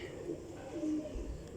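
A female Core Commander breed pigeon coos softly nearby in a few low, throaty notes against a quiet background.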